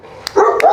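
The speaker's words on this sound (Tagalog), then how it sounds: "Tumatahol-tahol" Dogs bark in a kennel setting: a quick, close, loud bark burst with a short yip, lasting under a second.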